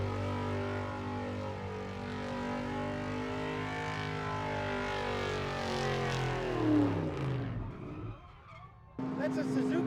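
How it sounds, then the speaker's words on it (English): A Suzuki Swift converted to rear-wheel drive howls through a long, loud, steadily rising engine note at the Summernats car festival, the revs swinging up and down near the end with tire squeal, under crowd noise and a voice. "That's a Suzuki Swift converted to rear-wheel drive."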